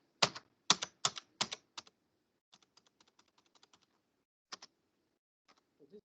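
Keys on a computer keyboard are tapped in a quick burst of loud strokes, followed by lighter, faster typing and a few isolated presses, all close up in an otherwise quiet room.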